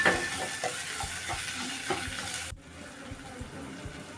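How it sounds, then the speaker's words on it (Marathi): Tomatoes cooking in a pan for palak dal, with a soft continuous sizzle and rhythmic scraping stirs close by; partway through the sizzle drops sharply to a quieter background hiss. "टॉमॅटो टाकून घेऊ टॉमॅटो पण नरम व्हायला द्यायचं आहे"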